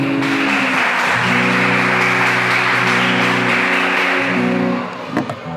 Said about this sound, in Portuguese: Diga glória a Deus e aplaude o Senhor